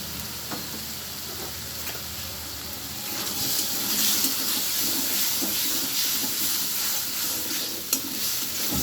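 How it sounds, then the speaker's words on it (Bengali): Ground cumin, coriander and turmeric powder fry in hot oil with a steady crackling sizzle and hiss, growing louder after a few seconds, with faint stirring scrapes and no talking. "মশলাটাকে আমি ভালোভাবে ভেজে নেব।"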